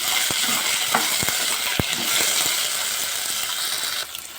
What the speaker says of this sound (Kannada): ಸ್ವಲ್ಪ ಆಯಿಲ್ ಹಾಕ್ಕೊಂಡಿದ್ದೀನಿ ನೋಡಿರಿ ಇವಾಗ ಚೆನ್ನಾಗಿ ಫ್ರೈ ಮಾಡಿಸ್ಕೊಂಡು